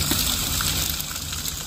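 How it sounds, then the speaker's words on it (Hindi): Cold water splashes and gushes steadily as someone washes their face in the morning in a room at freezing temperatures in Lahaul-Spiti, with a close, continuous watery rush. "ये वो मॉर्निंग के मुँह हाथ से धो रहे हैं"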